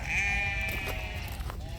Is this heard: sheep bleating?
yes